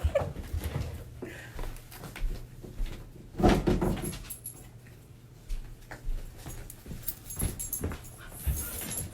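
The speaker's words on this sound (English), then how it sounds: "My dog is trying to come in the room." A dog tries to get into a room at a door, making scattered bumps, thuds and scratching knocks against the door with a few faint whimpers, close by in an indoor room.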